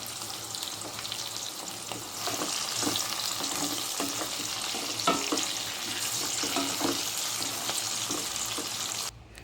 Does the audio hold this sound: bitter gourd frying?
yes